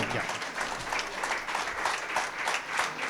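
Applause from an audience at a college function honouring the principal, a dense steady wash of clapping filling the hall, with voices faintly mixed in underneath.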